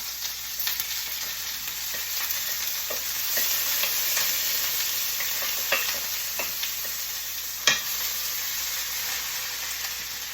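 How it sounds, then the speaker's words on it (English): Shrimp egg foo young vegetables sizzle and crackle steadily in a hot pan, with occasional clicks and scrapes of a utensil stirring them, close and fairly loud. "And I'm just stir frying this."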